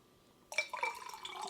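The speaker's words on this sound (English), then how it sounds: "I'm going to add some more water." Water pours into a glass holding a cayenne pepper drink, starting abruptly after a quiet moment with bright splashing and gurgling drips, close and clear, with no talking.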